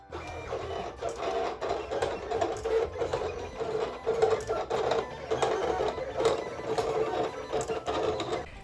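A Silhouette vinyl cutter works through a sheet of vinyl, a close, busy whirring of the carriage motor with rapid stop-start pulses and small clicks as the blade moves back and forth, with no talk.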